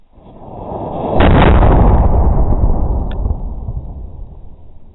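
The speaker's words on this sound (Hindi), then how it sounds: "सबसे बड़ा वाला सुतली बम, तो इसे हम ट्राई करने वाले हैं।" A large sutli bomb firecracker goes off outdoors in a single loud, sharp blast after a soft fuse hiss, followed by a long rumbling, fading echo.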